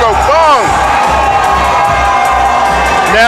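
A capacity wrestling arena crowd cheers loudly for the monster Kongo Kong, a dense, sustained roar of shouts and whoops with a commentator's voice mixed in.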